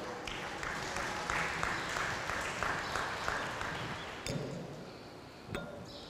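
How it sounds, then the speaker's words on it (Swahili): An audience claps steadily for a married couple at a gathering. Sharp clinks and thuds cut in near the end as the applause fades. "Wapigeni makofi hao wanandoa wamekuja."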